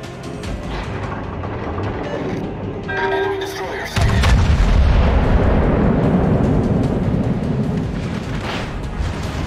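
Warship guns in World of Warships boom heavily, a sharp salvo breaking into a sustained, rumbling roar of gunfire and explosions, with voices speaking briefly beneath the opening moments.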